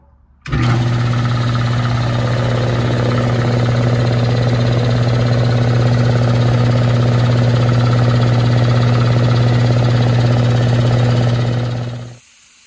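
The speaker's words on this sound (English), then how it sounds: "So I'm going to fire it up, and then I'll let it build up to its pressure where it cuts out" A 60 gallon air compressor kicks on abruptly and runs loud and close with a constant motor hum and rattling pump, building pressure steadily for about eleven seconds before cutting off.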